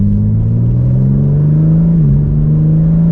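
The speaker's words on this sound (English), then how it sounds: "Now if you go down to setting 1 and we slow down, it just downshifted." BMW M4 CSL coasting down and downshifting on the road: a continuous deep engine rumble with a small blip in pitch partway through as the gear drops, then the drone settles again.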